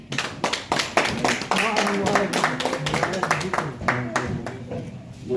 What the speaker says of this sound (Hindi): मुबारक जी को जोरदार ताली।